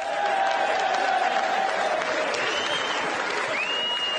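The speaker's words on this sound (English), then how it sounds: "Give her a big applause!" Steady audience applause at a comedy show for a saxophone player, a dense continuous clapping wash with a couple of whistles, fairly close and even throughout.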